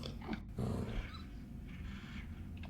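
Dog mobs growling in a modded Minecraft game: low, rough snarls and grumbles repeat in short bursts, moderately loud and close, with no talk over them.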